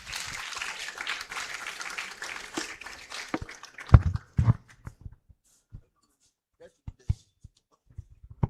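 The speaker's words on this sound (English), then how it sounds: "Let's clap for him." Audience applause at an African Liberation Day celebration, a dense burst of clapping for several seconds that thins into scattered, isolated claps before fading out.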